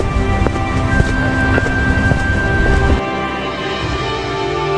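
Rain falls steadily in an animated street scene where a boy sells chole puri under a tree, a dense hiss of drops with faint wind that drops abruptly to a quieter patter near the end.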